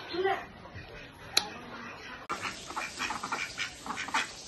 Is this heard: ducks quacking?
yes